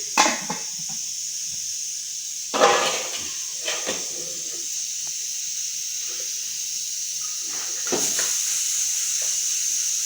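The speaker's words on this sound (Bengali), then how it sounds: "ভাত হয়ে গেছে, এই দেখো ফ্যানটা গালিয়ে নিচ্ছি" Starch water is poured off freshly cooked rice in a home kitchen, giving a steady hiss with a few brief splashy bursts and clanks along the way and no talking.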